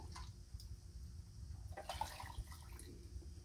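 Hot chicken broth poured into a glass canning jar during home canning, a soft continuous liquid trickle and splash close by over steady low background rumble, no talking.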